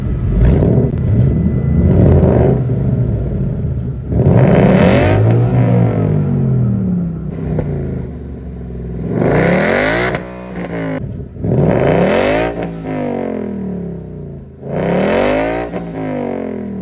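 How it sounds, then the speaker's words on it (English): A Ford Mustang GT V8 with a quad exhaust revs repeatedly while stationary, deep throaty bursts that climb and fall back to a rumbling idle, about six blips in sequence, loud and close. "This car has a quad exhaust system and it sounds just like this."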